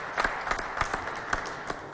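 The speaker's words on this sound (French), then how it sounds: "Applaudissez" Audience applause at a Valentine's Day special of the FESTAFRICA stage show: scattered, uneven claps rise and fall at moderate loudness, with no one speaking.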